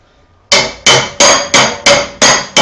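Seven evenly spaced, loud, sharp ringing hammer blows fall one after another on a 1.5 mm steel sheet being shaped by hand into a round in a metalwork shop, with no talk.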